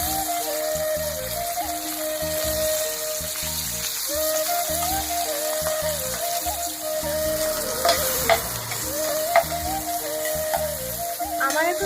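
Koi fish frying in hot oil in a pan, a continuous loud crackling sizzle that holds steady with occasional sharper pops and light stirring clatter, no voices over it.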